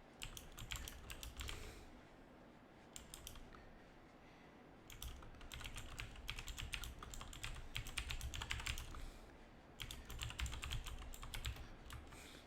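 Quiet, rapid typing on a computer keyboard, bursts of close clicking separated by short pauses, over a steady low background rumble with no talking.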